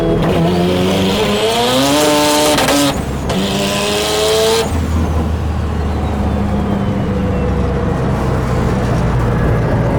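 A high-boost tuned car accelerating hard with its wheels spinning, a loud continuous engine roar climbing steadily in pitch, then breaking into a sustained rough rush of engine and road noise.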